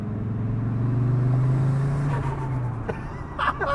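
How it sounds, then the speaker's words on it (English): Fiat Coupe turbo engine droning close up from inside the cabin, a steady low engine note building then easing, with brief faint hiss and clatter near the end. "Oh, that's a lot of turbo noise."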